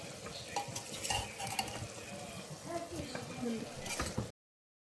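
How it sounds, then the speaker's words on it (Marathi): Spices and vegetables fry in hot oil for a soybean biryani, with a spoon stirring and scraping the pan in a steady, clattering rhythm over a constant close sizzle. "तेल परत तापवलं आणि त्याच्यामध्ये हे सगळे मसाले मिक्स करून टाकले आहेत"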